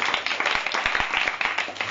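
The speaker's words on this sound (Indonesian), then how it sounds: "Tepukkan untuk Farah" A classroom of students claps for a classmate, a quick burst of close, rapid overlapping handclaps that runs steadily for a couple of seconds.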